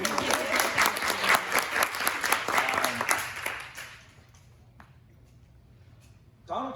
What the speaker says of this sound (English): I'd like to hear applause on that.